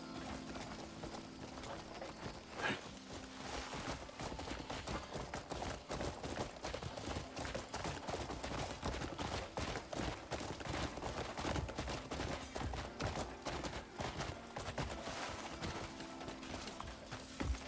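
Horse hooves gallop in a steady rapid clip-clop rhythm in Crimson Desert, quiet and continuous for the whole stretch, with brief game sounds mixed in and no talk.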